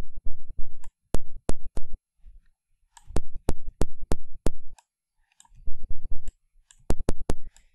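Synthesized kick drum made in LMMS, with a sharp initial click on its attack, struck in quick repeated bursts of three to six hits separated by short silences, loud and dry with no voices.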